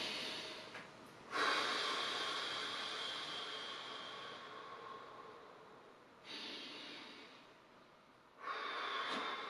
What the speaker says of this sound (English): Pump that breath in.